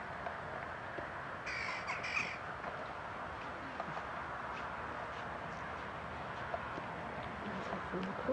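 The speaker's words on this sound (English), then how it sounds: "There's a crow. Hello, crow." A crow caws a few times in quick succession, clear but somewhat distant, over a steady outdoor background hiss, while a person talks nearby.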